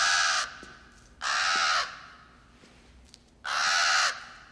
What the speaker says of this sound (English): I know crows are like actually one of the smartest birds out there or something like that.